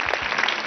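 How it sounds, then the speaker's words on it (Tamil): A brief burst of audience applause, dense and steady clapping from a studio crowd at a televised game show. "சூப்பராக எல்லாம் கைத்தட்டு"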